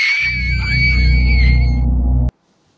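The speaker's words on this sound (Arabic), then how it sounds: "سمعوا صرخة كلش قوية من داخل غرفة المديرة" A very loud, sustained scream rings out from inside a school principal's office at night, holding steady for a couple of seconds before cutting off abruptly into silence.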